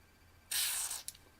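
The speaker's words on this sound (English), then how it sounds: "I'm going to aim this now in the downwards position and do a spray." Lubricant spray can aimed downward into a lock, giving one short hissing burst of about half a second followed by a brief second puff, close and otherwise quiet.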